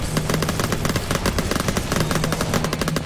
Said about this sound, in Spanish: las torretas pegando tiros así, la verdad es que mola